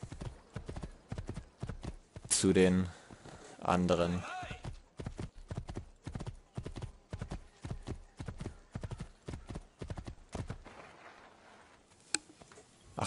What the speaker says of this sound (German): Wir reiten erstmal hier mit diesem wunderschönen Pferdchen